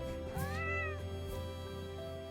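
Domino, a cartoon cat, lets out a single clear, drawn-out meow with a rising then falling pitch, close and distinct over faint background sound.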